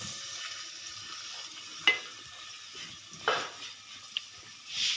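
Onion fries in cooking oil in a pot (degchi), giving a faint, steady sizzle. A few sharp stirring clinks sound against the pot.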